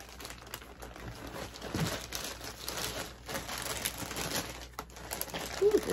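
A plastic shopping bag from a Dollar Tree haul is handled up close, giving a steady, continuous crinkling and rustling with a few louder crackles, with no talking.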